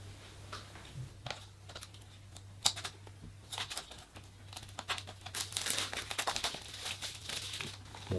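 Plastic shrink wrap torn and crinkled off a film disc case, irregular crackling and ripping bursts close by, growing busier and louder toward the end.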